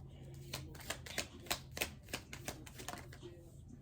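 Tarot cards riffled and shuffled in a short burst of crisp, rapid papery flicks, close and fairly quiet, with a faint hum underneath.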